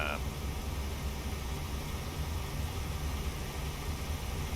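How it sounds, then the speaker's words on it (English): A truck engine in Euro Truck Simulator 2 drones loudly and steadily through the whole stretch, a dense low rumble with a hiss on top and no break in level. "There also is loud engine noise"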